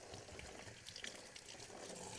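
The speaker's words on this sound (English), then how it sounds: "So I'm just going to take these mushrooms over here and just rinse them off a little bit with my hands with some cold water here." Cold tap water runs while mushrooms are rinsed by hand, a faint steady splashing trickle with small uneven bursts from handling.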